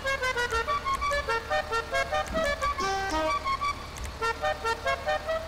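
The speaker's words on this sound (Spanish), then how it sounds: "Claxon." Repeated car horn honks from a vehicle in GTA Online, a steady rhythmic series of short toots sounding close and loud over a low engine hum, with no talking.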